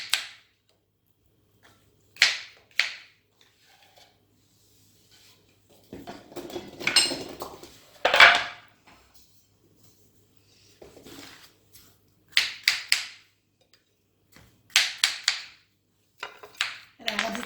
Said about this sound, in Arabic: القرعه كامله غادي نقطعها هكذايا طروفه شويه كبار